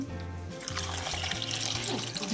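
Cold water pours steadily into a pot of eggs for boiling, a gurgling, splashing stream with a low hum underneath, close and fairly quiet.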